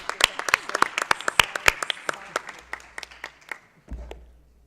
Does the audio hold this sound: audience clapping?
yes